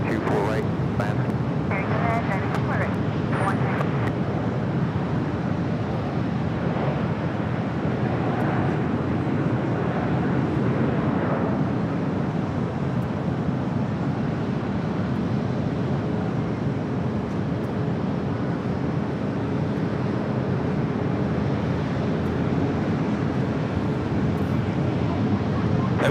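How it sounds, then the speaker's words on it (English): A United Airlines Boeing 737 MAX 8 lands at LAX, its engines a broad, sustained roar that fills the whole stretch at steady loudness, with wind buffeting the microphone and faint voices underneath. "That was United Airlines coming in from La Jolla, flight 1296, 737 to MAX 8."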